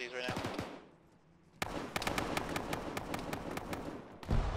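Rapid bursts of automatic gunfire in the military shooter ArmA, a ShackTac session, crackling in dense volleys after a brief lull, with a voice talking underneath and a heavy close shot at the end.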